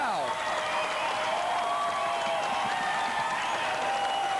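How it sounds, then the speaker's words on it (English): Crowd at a 1982 women's Division II volleyball championship match cheering and applauding, a sustained roar of clapping and shouting with whistling tones, while a commentator talks over it. "and listen to this crowd."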